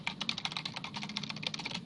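Rapid keystrokes patter steadily on a computer keyboard, close and quiet, in an even stream of light clicks.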